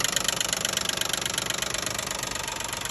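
A 2012 Nissan Maxima 3.5 L engine idling with a noisy intake bracket, giving a close, loud, steady rhythmic ticking chatter over the engine's running drone.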